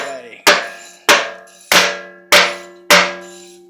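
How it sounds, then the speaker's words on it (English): Small hammers strike a metal transfer case during disassembly, five loud ringing clangs spaced at an even, deliberate rhythm, each hit leaving a bright metallic ring that decays before the next. "I'm going to grab the little hammers, if we can open her up."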